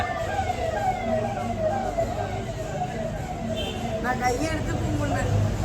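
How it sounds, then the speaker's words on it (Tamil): A wailing ambulance siren sweeps up and down in the distance, with people talking nearby over it. "நானும் ஆம்புலன்ஸ் தான் நினச்சேன்"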